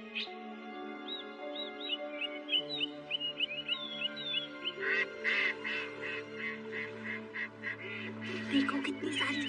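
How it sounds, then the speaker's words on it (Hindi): Birds chirp and call in a Hindi-dubbed Doraemon cartoon, a run of quick, bright tweets followed by louder quacking, duck-like calls over a steady background music bed, with a few faint voices. "देखो कितनी सारी चिड़िया आई हैं।"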